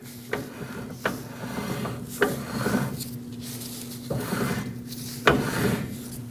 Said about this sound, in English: what you want to listen for is the brake shoes just barely touching.